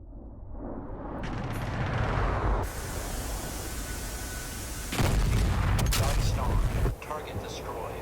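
Heavy explosions from bombs dropped by an F-15E Strike Eagle on chemical weapon plants in DCS World, two loud broadband blasts a few seconds apart, each rumbling and lingering over a steady engine-like background roar.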